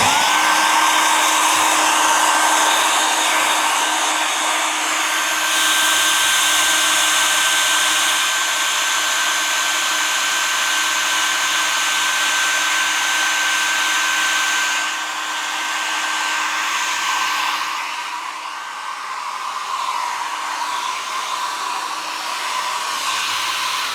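A hair dryer blows continuously and loudly at close range to dry a beach painting, its steady whine holding through with slight shifts in pitch and level as it moves.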